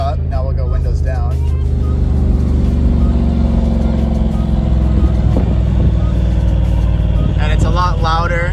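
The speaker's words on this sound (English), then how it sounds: "it's a lot louder with the windows down, just because obviously the pipes come out to the side of the car instead of behind it" A Mercedes G63 fitted with a P1 Motorsports exhaust and downpipe drives through town with the windows down, its side-exiting pipes giving a loud, steady low drone. Someone talks over it and the engine note briefly swells.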